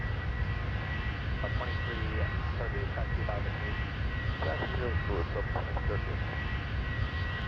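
A passenger airliner's engine in the mobile flight game Airline Commander makes a steady, even drone throughout, with a voice talking faintly over it.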